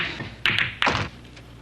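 Pool cue strikes on billiard balls during a behind-the-back shot, two sharp close taps about a third of a second apart, the second followed by a short rolling clatter.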